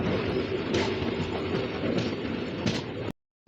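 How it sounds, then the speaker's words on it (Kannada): A passenger train bound for Chikkamagaluru pulls out of platform 2 at a junction in Karnataka, a steady close rumble with wheel clatter and a few sharp metallic bursts before a sudden cut to silence near the end. "ಚಿಕ್ಕಮಗಳೂರಿಗೆ ಹೋಗೋ ಟ್ರೈನು ಈಗ 2ನೇ ಪ್ಲಾಟ್ಫಾರ್ಮ್ದಾಗಿಂದ ಲೋಕೋರಿ ಬಸ್ ಆಗಿ ಹೊಂಟೈತ್ರಿ"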